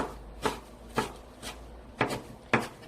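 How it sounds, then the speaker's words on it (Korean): A knife chops perilla leaves finely on a board for Korean meat patties: five soft, evenly spaced taps about half a second apart, close and fairly quiet, with no talking. "깻잎도 부드럽게 이렇게 쫑쫑쫑 썰어주세요."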